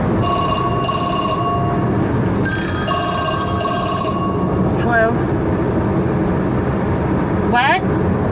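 A telephone rings in repeated bursts of bright electronic tones inside a car moving through traffic, loud and steady over constant road noise, with people talking, and a couple of short chirping tones near the end.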